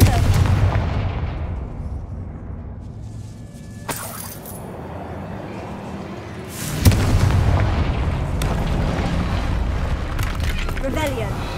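In Hogwarts Legacy, the Confringo fire-blast spell sets off booming explosions, with a heavy blast near the middle followed by another deep burst over rumbling game noise, as a voice talks faintly in the background.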